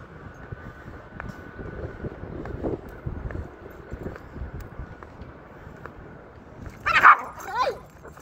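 A pet dog out jogging with its owner gives a few sharp yips and a whimper near the end, following a quiet stretch of footsteps and faint ambient noise.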